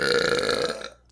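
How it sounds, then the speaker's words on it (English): A long, loud gnarly burp, continuous for about a second and then cutting off, heard alone. "Every single episode, you have this gnarly burp that I'm like contemplating, like, do I leave it in?"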